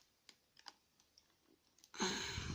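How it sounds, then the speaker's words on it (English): Several small, sharp plastic clicks spaced irregularly as parts of a Transformers Revenge of the Fallen Leader Class Starscream toy click into place, followed by a louder burst of rustling and scraping handling noise. "I can hear it clicking."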